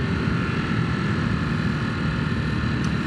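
A Ducati Hypermotard 950 SP ridden on winding Oberharz roads in Germany roars steadily after a downshift, with a continuous dense engine drone and wind rush, no talk.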